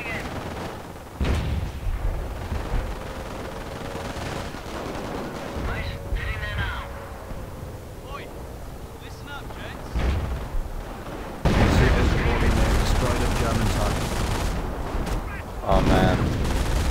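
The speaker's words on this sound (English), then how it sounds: "I love artillery." Artillery and gunfire in the Company of Heroes strategy game: sharp blasts and bursts of shots punctuate the action, with a heavy, sustained barrage near the end, while a player talks in between.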